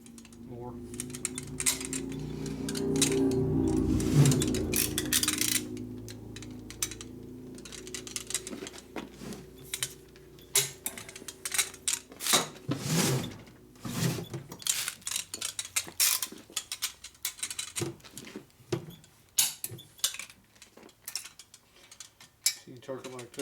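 A wrench torquing a bolt on a Harley-Davidson Shovelhead motor during a rebuild, giving quick metallic ratcheting clicks and clanks in uneven bursts, with a low hum early on and people talking nearby.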